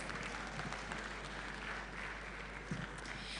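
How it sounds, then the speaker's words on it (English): Audience applause at a Lagos AI innovation conference, a steady, fairly faint wash of clapping from a seated crowd with a few sharper individual claps. "Please, a round of applause"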